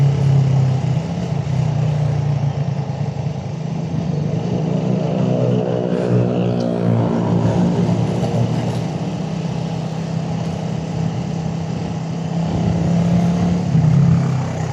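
A carbureted Raider 150 motorcycle labours up a steep road, its engine droning loud and close at high revs, with the pitch climbing and straining midway before holding steady. No talking.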